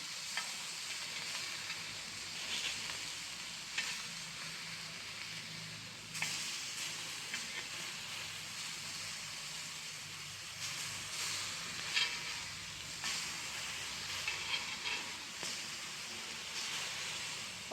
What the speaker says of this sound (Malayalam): അപ്പോൾ തക്കാളി സവോളയൊക്കെ ഒന്ന് ഹാഫ് റോസ്റ്റ് ആയിട്ടുണ്ട്